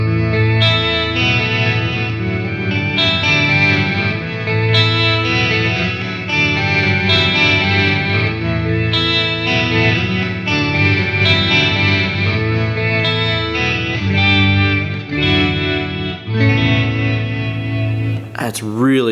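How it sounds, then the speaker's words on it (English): Electric guitar played through an MXR Poly Blue Octave pedal with modulation engaged, giving a swirling Leslie-like rotating-speaker shimmer over sustained chords that continue loud and steady throughout. "It's almost like a Leslie kind of like rotating speaker sort of sound."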